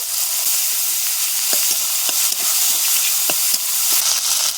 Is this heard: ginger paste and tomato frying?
yes